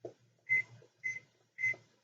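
A kitchen timer being set while noodles and rice pudding are cooked, giving three short, bright beeps spaced roughly half a second apart, fairly close, with faint background clatter and no talking.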